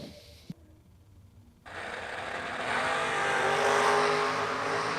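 A Chevelle and a Corvette launch down a drag strip, a loud engine roar building after a brief lull and sustaining as the cars pull away, with no voices.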